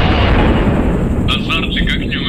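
Grenade explosions in the military video game ArmA 2 with the ACE mod at a checkpoint, heard as a loud continuous rumble with several short crackling bursts toward the end while a person talks.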